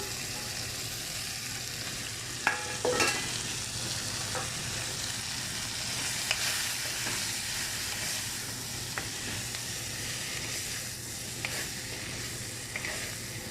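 Chopped drumstick (moringa) pieces fry in oil with black pepper powder and salt, a steady close sizzling hiss with a few sharper crackles and pops, no voices.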